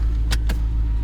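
Power windows on a 392 Jeep Wrangler lowering, heard as two short whirring bursts close together inside the cabin over a steady low engine rumble.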